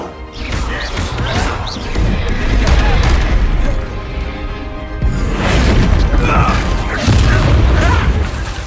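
Booming spell blasts from the Bombarda and Confringo curses in the Hogwarts Legacy video game, loud crashing impacts arriving in several bursts with brief gaps, alongside game voices and combat noise.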